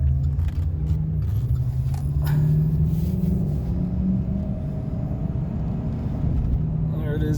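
A Chevrolet Silverado CNG pickup with a floor shifter drives around the block, its engine a steady low rumble heard from inside the cab.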